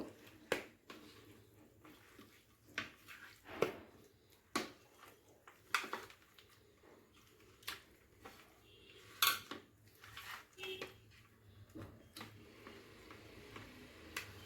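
Fish being mixed by hand with turmeric powder marinade in a bowl, giving scattered light clicks and taps of fingers and utensil against the dish, irregular and close in an otherwise quiet kitchen.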